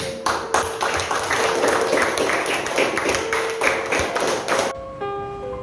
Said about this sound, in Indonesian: beri aplaus semuanya buat kita semuanya